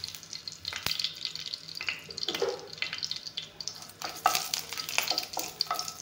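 Panch phoron seeds and a couple of bay leaves sputtering in hot oil, a soft uneven crackle with scattered louder pops and a few utensil scrapes, close up and without speech.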